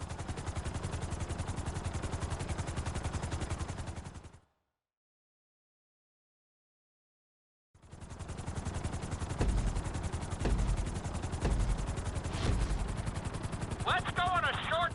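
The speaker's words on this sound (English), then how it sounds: "we're gonna put you in a helicopter for this lesson" A helicopter flies during a flight lesson in a video game, its rotor chopping in a rapid, even pulse that cuts out to silence midway, then resumes with a few sharper knocks and a brief high chirp.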